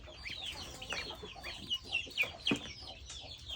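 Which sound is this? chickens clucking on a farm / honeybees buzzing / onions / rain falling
chickens clucking on a farm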